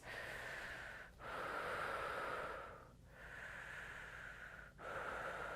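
Slow, deep breathing from a person holding a yoga pose at home: long, steady airy inhales and exhales, heard close and alone, separated by three brief pauses.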